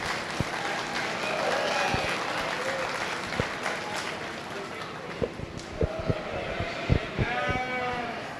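Applause rings out across a sheep show arena for a beginner showmanship class, with bleating sheep and scattered crowd noise mixed in and a voice talking through it.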